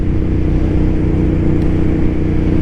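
A loud motorcycle engine with its exhaust baffles removed gives an open, throaty rumble, steady and up close, with a slight rev, no voices.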